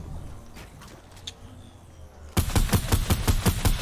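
Rapid gunfire in a Minecraft match erupts partway through, a dense run of sharp, loud repeated shots after a stretch of quieter game ambience.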